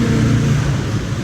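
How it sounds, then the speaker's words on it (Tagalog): Motorcycle engine passing by on a road, a loud low-pitched drone heard close, steady and rumbling through the whole brief moment. "Motor ulit."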